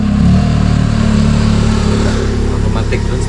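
Motorcycle engine droning loudly nearby for a few seconds, a steady rough low rumble with slight revving, heard during a mountain bike ride outside Iligan City, with some faint voices.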